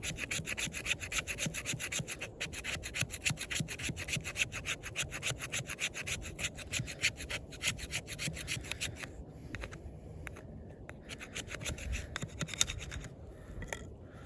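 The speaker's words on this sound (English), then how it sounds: "I want to try the choil area and see if that's a scraper." The choil of a Sitivien ST19 combat tanto knife in 154CM steel scrapes steadily along wood, making a continuous dry rasping with fast repeated strokes, close and fairly loud, easing briefly near the end.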